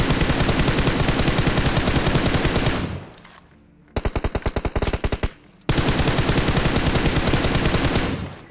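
Battle royale video game gunfire: long rapid bursts of automatic weapon fire, loud and close, broken by a short pause and a burst of separate cracking shots before the sustained firing resumes.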